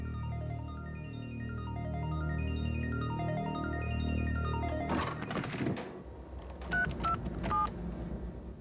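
A landline telephone keypad dialed in touch-tone, a rapid run of distinct beeping tones, one per key, followed by a few clicks and short electronic beeps on the line.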